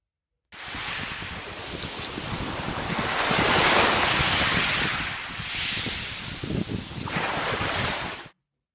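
Sea waves surge and wash continuously, swelling to a loud roar midway and easing again, with rough wind buffeting the microphone throughout.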